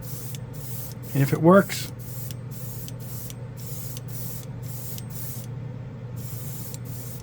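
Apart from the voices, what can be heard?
spraying Born Paint chrome mirror paint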